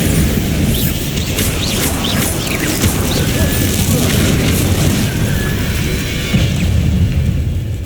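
Bombarda blasting spell in Hogwarts Legacy unleashes loud, dense explosive booms and crashing debris, a continuous rumbling barrage with sharp impacts layered on top, with a voice speaking over it.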